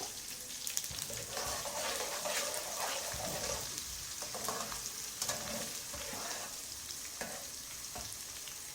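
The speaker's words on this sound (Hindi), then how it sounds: "अदरक और लहसुन है और साथ ना गरम मसाला है ये, तो ये भी मैं डालूंगी इसके अंदर तड़के में" Ginger, garlic and garam masala fry in a hot tadka, giving a soft continuous sizzle with occasional stirring scrapes and splashes, faint and close, with no voices.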